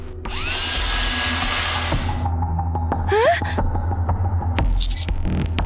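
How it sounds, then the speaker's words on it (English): Drill tearing apart a fallen Rapture creature in GODDESS OF VICTORY: NIKKE whirs loudly for about two seconds, then gives way to scraping, clanking metallic hits and a brief rising squeal, with a breathy vocal gasp mixed in. "Drilley sprints towards the fallen Rapture and begins to tear it apart with a drill."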